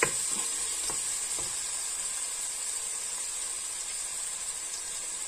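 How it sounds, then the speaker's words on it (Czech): Mexican pork goulash sizzling and frying in a pot while being stirred, a steady close hiss with a few scraping stirs near the start. "nezapomeneme míchat, aby se nám to tam nepřechytilo ke dnu"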